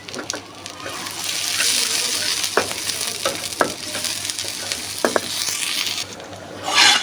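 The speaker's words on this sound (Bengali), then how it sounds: "তেলের মধ্যে দিয়ে এখন দিয়ে দেবো পাঁচফোড়ন আর এগুলো জিরা, পাঁচফোড়ন, দালচিনি, এগুলো দিয়ে দিচ্ছি।" Cumin, panch phoron and cinnamon frying in hot oil, a loud, close, continuous sizzle with intermittent clicks and scrapes of a spatula stirring the spices.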